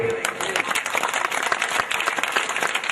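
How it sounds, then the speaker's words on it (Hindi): A church congregation claps in a dense, continuous patter of applause, fairly close, with voices mixed in underneath. "क्या हम प्रभु की तालियां देंगे?"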